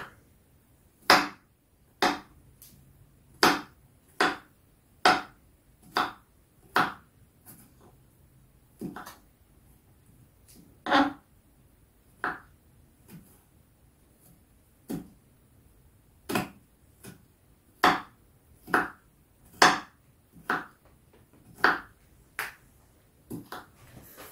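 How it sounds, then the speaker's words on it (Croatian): A knife chops onion for pljeskavica on a board, about two dozen crisp, evenly spaced cuts with short pauses, close and fairly quiet with no talking. "Da gordano reže luk"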